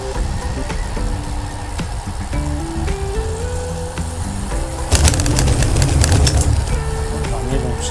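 Birds coo and call in the background over steady traffic or engine noise, with a brief burst of louder clatter midway.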